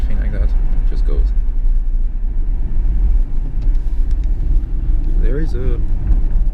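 A 1997 Nissan Stagea RS Four V, a four-wheel-drive wagon, drives along with a steady, loud engine and road rumble filling the interior, while a voice talks over it throughout.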